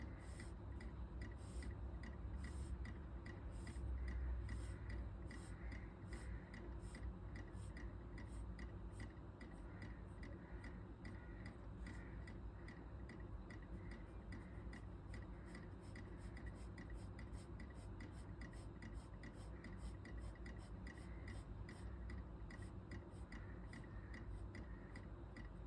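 Pencil shading on paper: a steady, close, soft scratching of rapid back-and-forth strokes that continues unbroken and quiet, with no voices.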